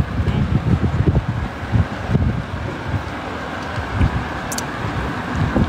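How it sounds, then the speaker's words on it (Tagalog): Strong gusty wind buffets the microphone with low rumbling blasts and rustle, continuous and loud, with faint voices underneath. "Tignan mo naman yung hangin."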